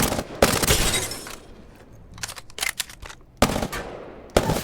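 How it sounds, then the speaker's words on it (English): SMG hip fire at long range in the Apex Legends firing range, with several loud rapid bursts of automatic gunfire separated by short pauses and quieter trailing echoes between them. "I'm hip firing a long range with an SMG and doing this."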